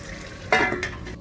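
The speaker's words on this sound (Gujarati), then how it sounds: "એકવાર આપણે ફરીથી હલાવી લઈએ એને." Stuffed okra frying in a covered pan is stirred, a brief scrape and clink of a spoon over a soft sizzle, close and short.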